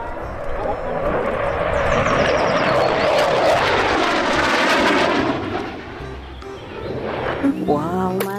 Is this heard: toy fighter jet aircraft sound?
yes